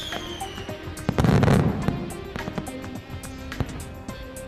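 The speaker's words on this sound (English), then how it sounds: "That's just the enchanted fireworks display welcoming guests upon arrival." Cartoon fireworks crackle and burst in a rapid string of sharp pops and bangs, with a louder whooshing boom near the start, continuing steadily throughout with no talk.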